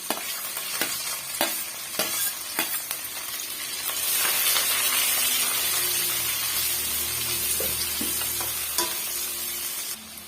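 Onions, curry leaves and green chilies fry in hot oil, a steady crackling sizzle with sharp spatula scrapes and knocks against the pan, the hiss swelling louder midway.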